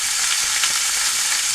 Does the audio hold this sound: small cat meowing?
no